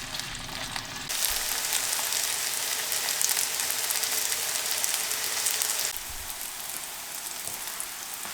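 Onions caramelizing in a pan as water is added, breaking into a loud, steady hiss and sizzle that holds for several seconds, then settles to a quieter simmer.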